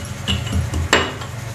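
Several dull thuds and a sharper knock of a pestle pounding garlic and ginger in a stone mortar, brief and close.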